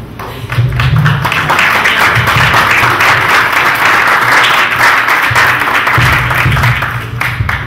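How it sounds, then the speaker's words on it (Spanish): A seminar audience on memory and history applauds steadily for several seconds, a dense, loud burst of clapping from a room full of people that tapers slightly near the end. "También una vez más estaría un aplauso al doctor Vázquez"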